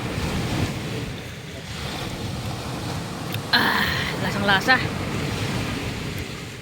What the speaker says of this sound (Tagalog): Ang lakas mga kapangit lang, hampas ng alon.